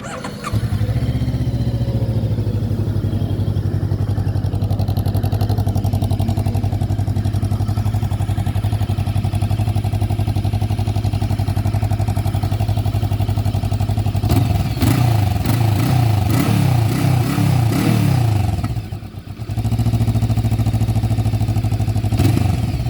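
A Bristol Veloce 500 motorcycle engine idles with a loud, steady, close throb, then revs up in a short burst of rising and falling throttle before settling back to idle.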